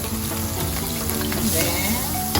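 Cooking oil sizzles steadily in a pan while Filipino chicken afritada with banana is prepared, a continuous close frying hiss with faint clinks and no talking.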